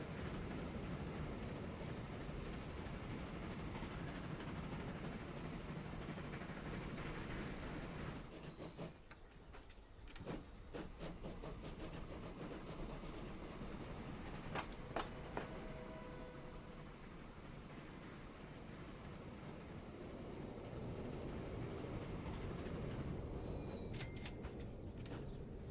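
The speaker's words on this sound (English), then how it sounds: "This is a fast train." A fast train in the tycoon game Transport Fever 2 runs along the track, a continuous rumbling roll with brief wheel squeals and clicking rail noise, heard alone with no talk.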